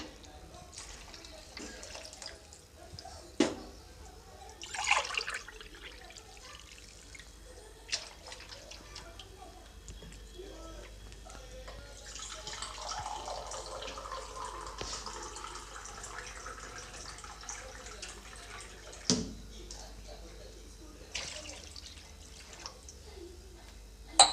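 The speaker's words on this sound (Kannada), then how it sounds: "ನಾನಿಲ್ಲಿ ನಾಲ್ಕು ಲೋಟ ನೀರನ್ನು ಹಾಕ್ಕೊಳ್ತೀನಿ" Water is poured from glasses into a pan while making field bean upma in a home kitchen. Quiet splashing pours come with occasional sharp clinks of utensils.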